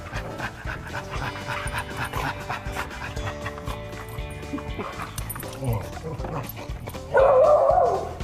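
A dog pants rapidly and close by with occasional barks and yips, breaking into a louder bark near the end while people talk around it.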